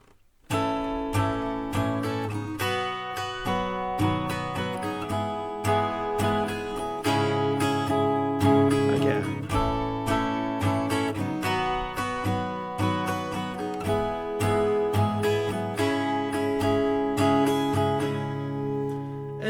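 Acoustic guitar strums the chords of a song in a steady up-and-down pattern, full and continuous, close and fairly loud for about twenty seconds with no voice.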